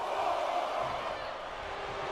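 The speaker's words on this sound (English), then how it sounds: "And Nia is revving this crowd up." Crowd in the WWE 2K24 wrestling video game roaring steadily during a countout, a dense, sustained wash of cheering with no clear breaks, loud and continuous throughout.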